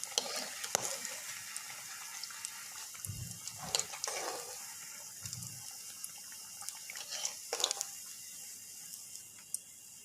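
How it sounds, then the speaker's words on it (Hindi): Egg and potato kebabs fry in a pan with a soft, steady sizzle and hiss, with a few louder crackles and low bumps along the way. "इसी तरह हम सेकंड बैच को फ्राई करते हैं।"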